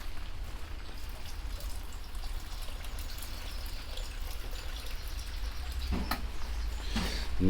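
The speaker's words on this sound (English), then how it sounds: "it's dry there on top, it's running over, see, because I don't get water on top." Water pours steadily onto potted tomato plants, trickling and running over the dry soil surface, close and continuous with a soft splashing hiss that grows slightly louder at the end.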